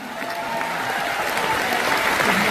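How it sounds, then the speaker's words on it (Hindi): A large audience at a leadership motivational gathering claps in a continuous, even wash of applause, moderately loud and unbroken from start to finish. "इसी बात पर तालियां बजा दीजिए आप सभी लोग"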